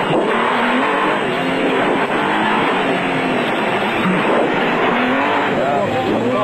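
A loud off-road racing truck engine roars steadily throughout, revving and droning with a raspy exhaust, close and continuous, during an off-road race in South Africa.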